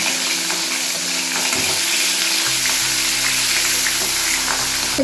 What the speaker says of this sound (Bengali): এবার মাছগুলো আমি ভেজে নেব, তাই তেলের মধ্যে মাছগুলোকে দিয়ে দিচ্ছি।